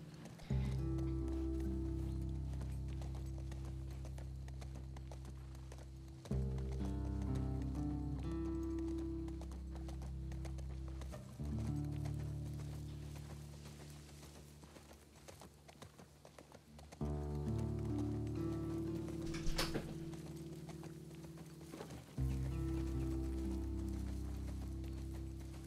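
Horse hooves clip-clop in a steady rhythm while riding in The Last of Us Part II, sounding close and continuous over a low background score, with brief pauses between stretches of hoofbeats.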